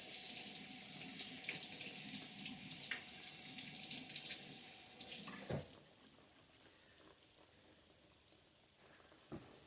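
A tap runs steadily as hands are washed under it, with splashing, then the water shuts off, leaving quiet room tone and a faint click.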